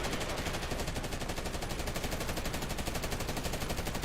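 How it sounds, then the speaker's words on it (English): Rapid automatic gunfire from a video game as a player shoots through a wall, a dense, continuous rattle of shots filling the whole stretch at steady loudness with no talking. "I'll be able to shoot through this wall."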